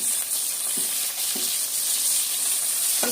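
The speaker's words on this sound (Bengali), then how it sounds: "এই তেলের মধ্যে আমি পর্যায়ক্রমে সবজিগুলো একটু ভেজে তুলে নেব" Vegetables frying in hot oil in a home kitchen while cooking a vegetable and soya chunk pulao, giving a steady bright sizzle throughout with a few soft stirring knocks, close and without speech.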